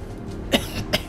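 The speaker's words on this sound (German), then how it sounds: "Ich muss so langsam da durchgehen." Two short, close coughs from a character in the video game The Order: 1886, spaced about half a second apart over a quiet game background, with no talking.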